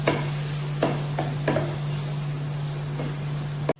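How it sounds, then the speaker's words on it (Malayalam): Cooked clam meat being stirred in a hot pan with a steady tone, several scraping stirring strokes over a faint sizzle, close and fairly loud, no talking. "വേവിച്ച് വെച്ച കക്കയിറച്ചി ചേർത്ത് കൊടുക്കാം. നന്നായി ഇളക്കി കൊടുക്കുക."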